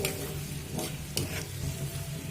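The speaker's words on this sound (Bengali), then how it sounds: "এবার দেব রসুন কুচি" Chopped garlic, with ginger, sizzles in oil over medium heat for dhaba-style chilli chicken, a close steady hiss with a few quick stirring scrapes.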